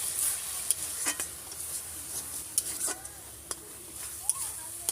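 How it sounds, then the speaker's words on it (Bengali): A spice paste fries in hot oil in a pan, giving a steady sizzle broken by sharp clinks and scrapes as it is stirred. "ভালো করে মশলাটা ভাজা হয়ে গেছে"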